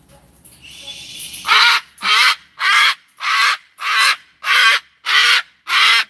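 A cockatoo imitates a dog with a series of eight loud, evenly spaced harsh calls, each sounding like a bark, after a faint rustle.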